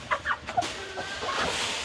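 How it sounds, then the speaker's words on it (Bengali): An American breed chicken with feathered legs gives a few short, close clucks in quick succession, followed by a softer low murmur. "এটা হচ্ছে আমেরিকান মুরগি।"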